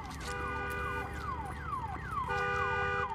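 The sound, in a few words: alarm sounding in video game Days Gone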